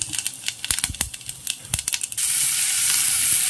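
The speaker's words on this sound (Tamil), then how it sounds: "இதை போட்டு இப்போ தாளிக்க" Whole spices such as cinnamon, cloves, bay leaf and fennel seeds hit hot oil in a pan, giving a burst of sharp crackles and pops that settles into a steady, loud sizzle.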